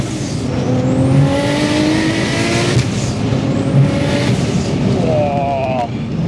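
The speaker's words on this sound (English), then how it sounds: "I love that VR6 sound, even without the turbo" Turbocharged VW Golf R32 with a VR6 engine revving hard, loud sustained engine note rising and falling with a whine, close and continuous throughout.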